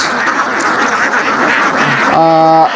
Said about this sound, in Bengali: আমার সামনে দেখতে পাচ্ছেন অসংখ্য হাঁস বিচরণ করছে। এগুলা খাকি ক্যাম্বেল জাতের হাঁস।